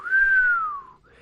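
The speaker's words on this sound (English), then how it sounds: "Elsingham whistled." A man whistles a single clear, loud note that slides slowly downward and then lifts briefly at the end, alone with no talk.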